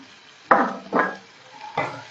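Two chopped onions go into a hot pan and sizzle in three bursts of frying as they are stirred, loud and close with no talking.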